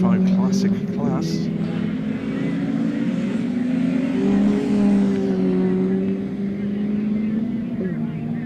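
A Ford Escort rallycross car on the final lap of a Limited 95 Classic class race in a club rallycross championship roars in a loud, steady engine drone with shifting pitch, while a commentator talks over it.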